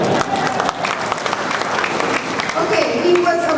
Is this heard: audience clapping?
yes